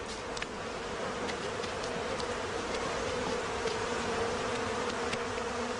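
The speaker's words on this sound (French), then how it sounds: "Au début, les abeilles n'opposent aucune résistance quand, sans ménagement, les pompiers entreprennent de les transvaser dans une boîte." A honey bee swarm buzzes in a dense, steady drone as firefighters roughly tip the bees into a box, the humming continuous and close throughout.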